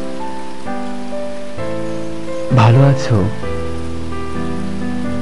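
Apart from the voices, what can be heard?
rain falling, background of a poetry recitation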